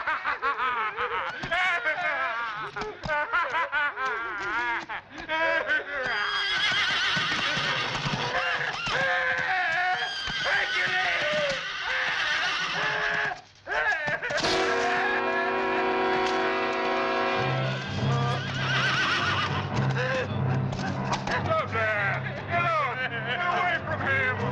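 A horse whinnies and snorts amid laughter and chuckling voices, with music swelling in toward the end.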